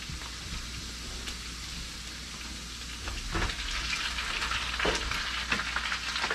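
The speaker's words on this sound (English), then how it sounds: "Get ready to add in the kielbasa." Pre-smoked kielbasa fries with potatoes in a pan. A steady, close sizzle runs throughout and grows slightly louder midway, with occasional crackles and stirring scrapes.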